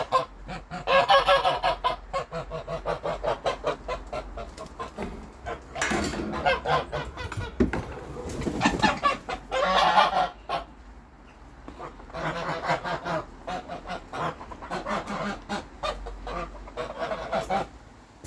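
A flock of geese honks continuously up close, overlapping nasal calls rising and falling in bursts with brief lulls between.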